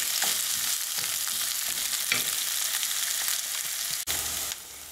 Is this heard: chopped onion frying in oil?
yes